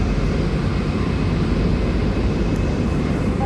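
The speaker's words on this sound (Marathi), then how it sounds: "ॲक्सलरेट करते आहे आपली ट्रेन." A Medha AC local train running between Borivali and Virar rumbles as it picks up speed, heard from inside the carriage as a steady deep roar with broadband rushing noise and no talk.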